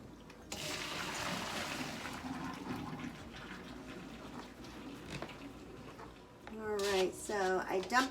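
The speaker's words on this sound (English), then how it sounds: "I drained the macaroni over my sink" Water from cooked macaroni is poured out of the pot into a kitchen sink: a loud rushing splash for about a second and a half, then a steadier, quieter flow. A voice speaks near the end.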